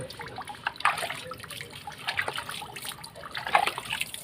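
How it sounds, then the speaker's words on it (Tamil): Water trickles and splashes faintly over a brass pot being rinsed by hand, with soft irregular drips and clinks, close and quiet with no talk. "இப்போ இதையும் கழுவி பார்க்கலாமா?"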